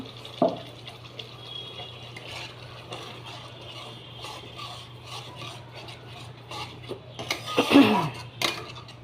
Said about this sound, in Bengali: বাটিটা ধুয়ে একটু জল দিয়ে দিলাম